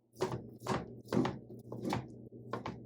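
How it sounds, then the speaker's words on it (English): A knife cuts raw chicken into cubes on a cutting board, with five firm, evenly paced chops close to the microphone and brief quiet gaps between them. "First I cut long ways in a couple strips. Then I can cut the cross section into these cubes."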